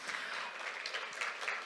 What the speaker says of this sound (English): I would like you to give a big round of applause to Lorena Perdomo